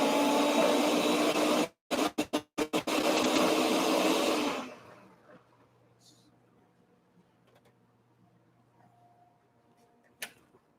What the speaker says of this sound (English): this blender is probably not the best one to use for a smaller amount of chimichurri